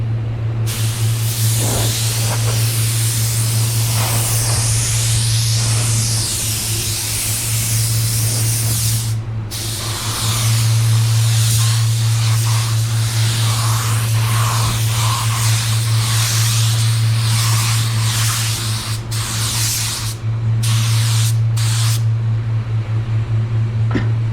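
A spray gun applies water-based paint in a two-tone job, giving a steady close hiss with a low compressor hum underneath, broken by short pauses at about nine and twenty seconds.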